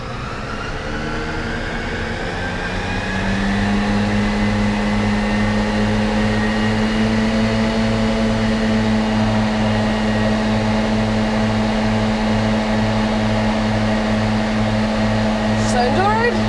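A tractor engine running Pottinger Novacat A10 mowers revs up, then settles into a loud, steady drone with rising mechanical whines layered over the low rumble.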